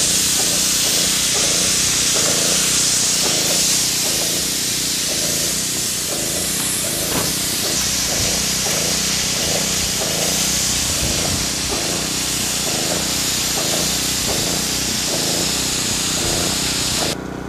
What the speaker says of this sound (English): I'm using a smaller Graco G-Max machine that kicks out approximately